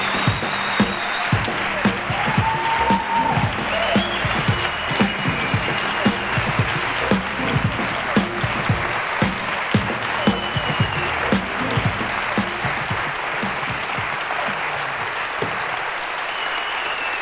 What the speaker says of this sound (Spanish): reciban con un fuerte aplauso a Julia Hidalgo